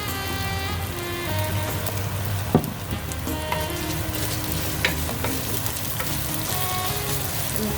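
Garlic, lemongrass and ginger fry together in oil for an Asian squash and herb dish, giving a steady, close sizzle with scattered small pops and crackles throughout, with no talking.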